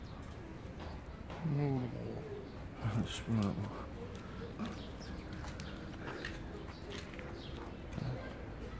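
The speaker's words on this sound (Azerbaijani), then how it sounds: "Quşlardır bu." Birds in a zoo enclosure coo softly in a few short bursts, not far off, under light ambient noise, while a person speaks briefly nearby.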